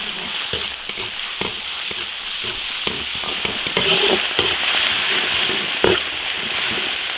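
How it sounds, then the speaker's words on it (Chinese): Steady, loud sizzling of ginger, garlic, chili and chili sauce frying in hot oil, with repeated scraping clicks of a spatula stirring in an iron wok throughout. "生姜、大蒜、辣椒、辣椒酱炒香，炒出红油。"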